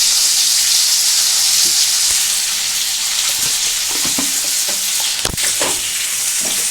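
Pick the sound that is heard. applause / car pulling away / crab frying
crab frying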